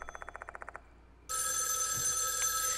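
A telephone rings in the horror video game Spirit Hunter: Death Mark II, a run of rapid trilling bell pulses that stops abruptly, then a bright, sustained electronic tone takes over without pause.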